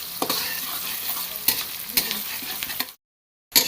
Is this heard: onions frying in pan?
yes